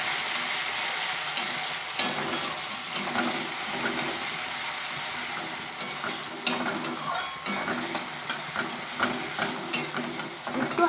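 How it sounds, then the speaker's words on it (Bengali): Tomato frying in a pan with panch phoron spices: a continuous close sizzle and spitting hiss, broken by louder scraping stirs of the pan that come more often toward the end. "তো তারপরে আমি টমেটোটা দিয়ে দিচ্ছি, আর পাঁচফোড়ন দিয়েছি"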